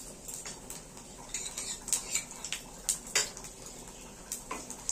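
Panch phoron, the Bengali five-spice, stirred in a little hot oil with bay leaves and dried red chillies for a khichuri tempering: scattered light clinks and ticks of a spoon against the pan over a soft frying hiss, with no talking.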